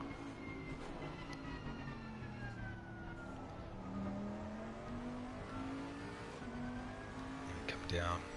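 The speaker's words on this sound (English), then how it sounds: "Coming down there, you just want to glide down progressively, shift down, not too aggressive to upset the car." Race car engine in a PS4 racing game at Bathurst, its pitch falling and rising as it shifts down, held steady and loud throughout with a brief rise near the end and talk faintly underneath.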